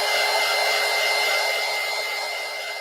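A heat tool blows a loud, steady, close airy roar while drying Deco Art Gold paint, holding constant for a few seconds with a slight fade toward the end.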